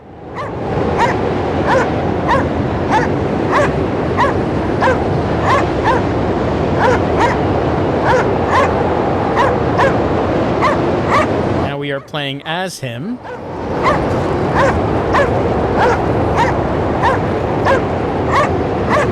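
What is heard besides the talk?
dog barking in the video game Cryostasis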